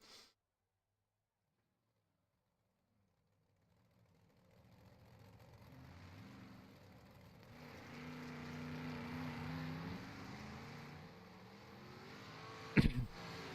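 Dirt track race cars warm up on the speedway at Knoxville. After a few seconds of near silence, a distant engine drone fades in and builds, with a sharp bump near the end.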